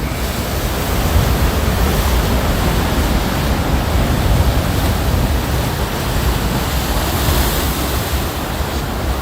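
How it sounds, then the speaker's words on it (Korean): Heavy waves crash and roar steadily on the night sea at Sacheon, Gangneung, a loud, continuous wash of surf mixed with wind buffeting the microphone, with no voices. "사실은 파도가 크세게 그 치고 한가운데는 아, 커세게 치고 있긴 하지만"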